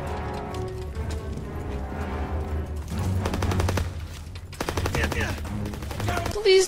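Gunfire in the World War II video game Call of Duty WW2: steady automatic bursts and rapid shots, loud and continuous, with a short pause in the middle and a player's voice faintly under the shooting.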